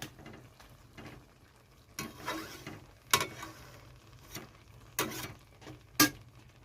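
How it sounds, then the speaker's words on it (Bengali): Ground spices being stirred into homemade sweet mango pickle, soft scraping and stirring with several sharper clacks of a spoon against the pot, fairly quiet and close, no talk. "তো এখন এখানে মশলাটা মিশিয়ে দিচ্ছে।"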